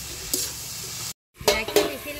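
Fish curry sizzles in hot oil with panch phoron, turmeric and salt, steady frying hiss broken by stirring scrapes and clinks of a spatula against the pan, with a brief silent gap midway.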